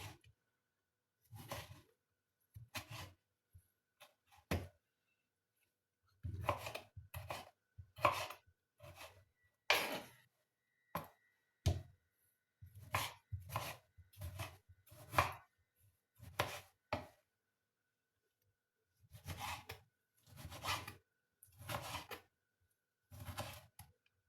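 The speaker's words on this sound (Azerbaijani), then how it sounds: "pomidorlarımızı da doğrayırıq." Tomatoes being chopped with a knife on a board, crisp separate thuds in irregular bursts and quick runs with short pauses between them, close and clear, no talking.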